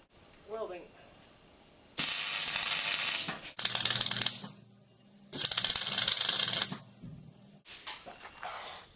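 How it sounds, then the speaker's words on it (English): Welding on a vintage caravan frame comes as loud crackling, hissing bursts in three or four spells of a second or two each, broken by short quiet gaps. "Welding."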